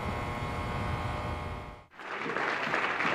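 A studio audience at a comedy club applauds and cheers in a dense, loud wash, briefly dipping before swelling again even brighter and fuller.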